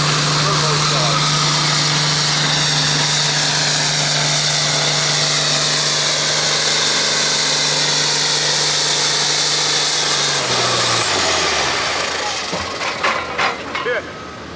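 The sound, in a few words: turbocharged 1965 1206 farm tractor pulling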